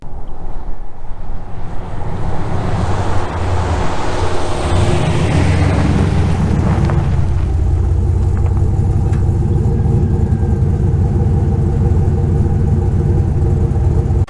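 A loud, deep engine rumble from a Speed Engineering true dual axle dump exhaust, steady and close, swelling briefly as the revs rise midway.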